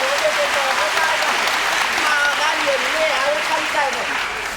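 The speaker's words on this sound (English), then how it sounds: "The audience applauds" An audience applauds steadily at a kabuki theatre performance at the Kabuki-za, sustained clapping from a large crowd while a voice speaks over it.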